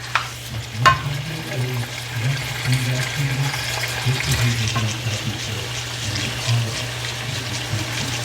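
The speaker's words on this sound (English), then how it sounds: "So I use cold water, rinse mine off." Cold tap water rinsing linguine pasta, a steady loud rushing stream with splashing and a low hum, a sharp clatter near the start, no talk over it.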